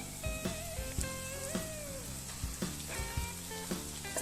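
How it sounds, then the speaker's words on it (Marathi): Grated eggs dropped into hot oil with cooked masala for Marathi-style anda bhurji, giving a soft steady sizzle with spatula scrapes and clinks against the pan, close up and fairly quiet, no talk. "छान तेल सुटले सर्वेकडून आपण जे अंडे किसून ठेवले होते ते टाकून घेऊ"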